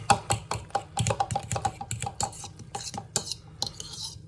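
Eggs, yolks and grated Pecorino Romano cheese beaten together in a bowl, a fast run of close, rhythmic clinks and scrapes from a utensil against the dish with no talking.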